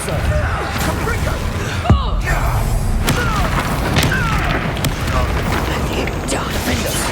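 Spell explosions from a Confringo fire spell go off in Hogwarts Legacy combat: loud booms and thuds repeat over dense battle noise, with whooshes and voices calling out through the fight.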